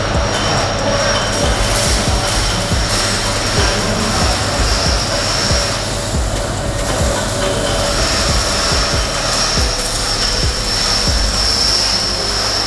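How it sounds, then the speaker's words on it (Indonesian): A dried squid press machine runs with a loud, continuous mechanical drone and a steady high whine, close by and unbroken throughout, with no talk over it. "Baik, kita akan uji coba untuk menghidupkan mesinnya"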